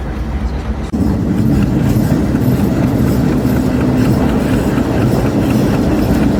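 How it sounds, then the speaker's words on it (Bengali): A WDM-3 diesel locomotive engine rumbles loudly nearby while notching up, jumping abruptly to a heavier, sustained roar after a brief quieter moment. "আমরা এখন আপনাদের দেখানোর চেষ্টা করব WDM-3 এর যে নচ খোলার সাউন্ড সেটি।"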